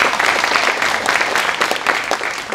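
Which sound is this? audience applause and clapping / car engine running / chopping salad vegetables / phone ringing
audience applause and clapping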